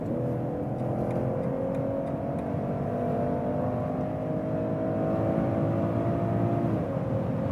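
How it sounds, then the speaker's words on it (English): An inline six-cylinder premium sedan accelerates in sport mode from about 120 km/h, its engine a steady, fairly loud whirring drone that climbs gradually, then drops briefly near the end as it shifts. "Now, once again to the sports mode, and this is here, once again, the inline 6-cylinder, 120 kilometers an hour"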